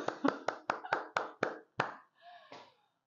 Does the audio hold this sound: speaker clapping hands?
yes